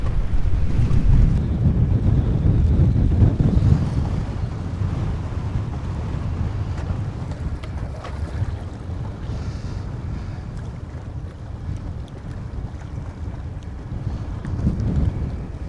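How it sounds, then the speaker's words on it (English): Strong, steady wind roars and buffets the microphone on a fishing boat out on the water, a dense low rumble throughout with no speech. "the wind is blowing like a hurricane out here. I don't know how good the audio is going to be on this video"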